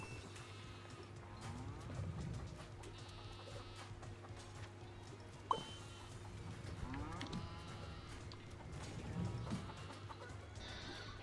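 Cows moo repeatedly in the Moving Out 2 video game, several drawn-out calls spread through the clip over a steady farmyard game backdrop, with occasional hen clucks mixed in and a sharp click midway.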